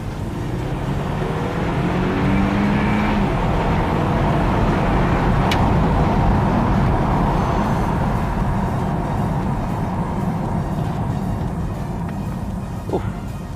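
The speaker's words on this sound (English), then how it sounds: "Let's roll down the windows actually so you can hear that glorious 4-cylinder sound" A BMW 328i four-cylinder engine pulls hard at full throttle with the windows down, a steady loud drone of engine and road noise building over several seconds, heard from inside the car.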